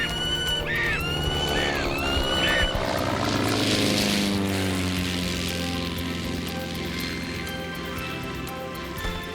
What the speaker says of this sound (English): That was a crop duster.